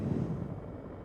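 Steady, loud engine drone of a Cirrus aircraft in the X-Plane VR flight simulator, a continuous low rumble with no talk over it.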